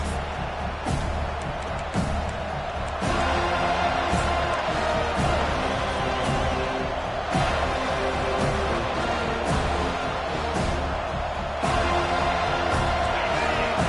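Penn football crowd in a stadium, early in the game: a dense, steady roar of cheering voices that holds loud throughout, with sharper swells and bursts rising every few seconds.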